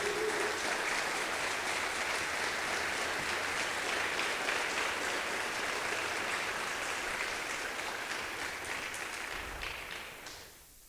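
A church congregation applauds God, a dense, sustained wash of clapping filling the room that holds evenly for several seconds before tapering off at the end.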